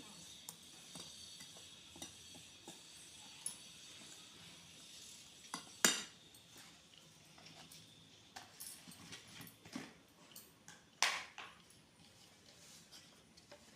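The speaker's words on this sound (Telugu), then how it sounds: "విస్కర్ తోటి ఇలా అంతా ఉండలు లేకుండా కలుపుకోవాలండి" Whisk stirring semolina cake batter in a bowl for an eggless rava cake, with faint, soft, irregular scraping and tapping strokes against the bowl, a few sharper clinks, and quiet kitchen surroundings.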